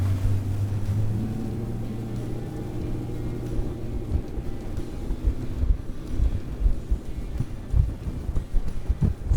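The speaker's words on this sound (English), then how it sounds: "you will hear it actually trim itself out as we run the boat" A Barletta Corsa 25UCA pontoon boat's engine with active trim hums steadily with low droning tones while wind rushes past and water slaps rhythmically against the hull.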